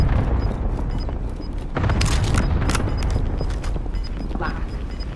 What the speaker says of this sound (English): someone just sniped at me